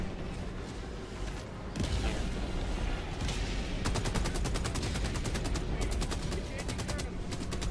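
Intense gunfire barrage in the co-op shooter Helldivers 2, fighting Terminids: dense, loud rapid-fire bursts and booms layered over one another, continuous and building, with rapid machine-gun rattles through the second half.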